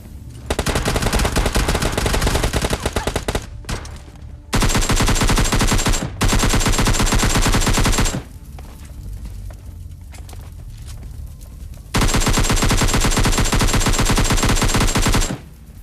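Long, loud, rapid automatic bursts from a Vector submachine gun in a shooter game, several sustained volleys broken by brief pauses and quieter background game sound.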